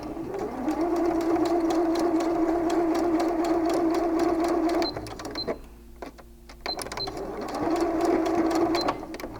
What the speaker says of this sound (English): sew 1/4 inch from the pocket seam from the top of your pants to the first circle